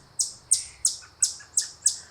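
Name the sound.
noisy birds chirping near a bird feeder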